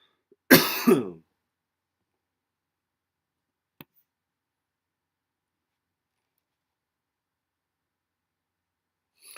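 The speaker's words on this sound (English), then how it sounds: "I got a cough." One short, harsh cough and throat clear close by, followed by long silence broken only by a faint click.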